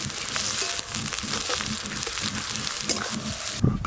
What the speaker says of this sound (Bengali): তেল বেশ ভালো করে গরম হয়ে গেছে। প্রথমে কেটে ধুয়ে রাখা পেঁয়াজগুলো দিয়ে দেব।